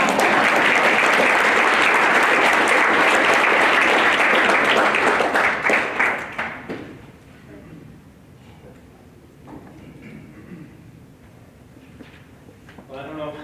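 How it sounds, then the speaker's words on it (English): An audience at a 2019 college athletics Hall of Fame induction ceremony breaks into loud, sustained applause, then it thins out and fades to scattered claps and quiet room murmur. "You can give an applause."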